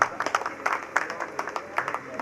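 An audience at a bhajan gathering claps along in a fairly even rhythm, each clap distinct and moderately loud, with a faint background murmur underneath.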